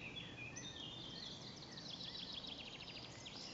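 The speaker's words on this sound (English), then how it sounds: "And a chaffinch." Chaffinch singing outdoors at a lake among other songbirds, a faint, distant run of high chirping notes over steady background noise, with a garden warbler and a wren also singing nearby.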